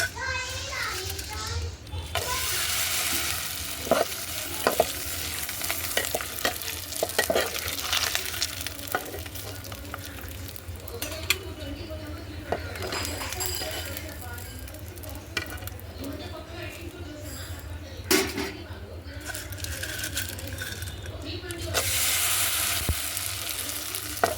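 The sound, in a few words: vadiyalu (sun-dried fritters) frying in hot oil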